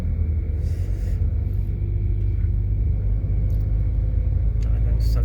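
Heavy stop-and-go traffic on EDSA in Makati, a loud steady low rumble of car engines heard from inside a vehicle, continuous and close, with no clear horns or voices.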